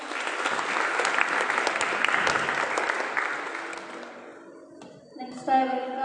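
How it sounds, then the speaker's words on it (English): School audience at an investiture ceremony applauds to welcome Sri Lakshmi Narasimha, with dense steady clapping that fades after about four seconds, followed by a brief voice. "we can welcome him with the applause."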